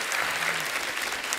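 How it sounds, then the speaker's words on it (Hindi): A studio audience at The Kapil Sharma Show breaks into brisk, dense applause, steady and close for a brief burst. "जोरदार तालियां हो जाए हमारे मेहमानों के लिए"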